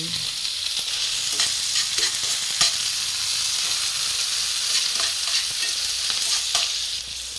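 Scrambled egg with tomato and onion frying in a pan, a steady bright sizzle with occasional stirring scrapes, close and fairly loud, with no talking.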